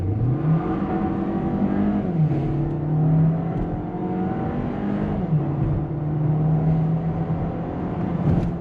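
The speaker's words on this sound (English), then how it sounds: "Drop a gear, we're in sport mode. Let's see how quick we accelerate." A 2024 Volkswagen Taos SUV accelerates hard in sport mode, heard from inside. The engine climbs in pitch through the gears with audible shifts, a steady loud drone and no talking.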